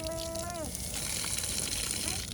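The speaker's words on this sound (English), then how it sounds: "That faucet's good." Water runs from an outdoor faucet at a house, a steady, moderately faint rushing hiss that continues after a brief tonal sound at the start.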